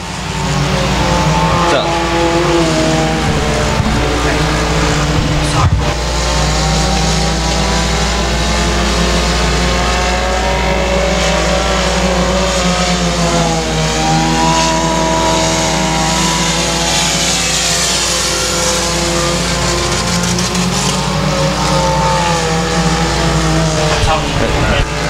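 Race cars roar continuously around a dirt speedway at Boothill Speedway, loud engines droning and revving close by with a PA announcer talking over them throughout.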